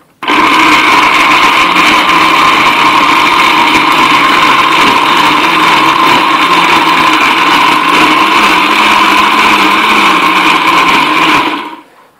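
A blender grinds noni fruit along with its seeds, a loud, steady high-pitched whir that runs continuously for about eleven seconds before cutting off abruptly.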